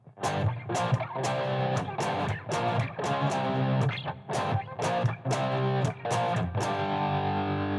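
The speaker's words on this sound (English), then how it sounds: "But usually people play that song with just straight power chords" A heavily distorted electric guitar chugs through power chords in a driving rock rhythm, with short muted strums and chord changes throughout.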